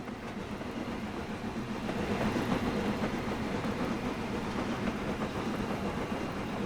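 Train rumbling steadily through the 200-yard Bishop Auckland Tunnel on the Weardale and Teesdale line, a continuous enclosed roar with faint rhythmic wheel clatter that swells slightly partway through.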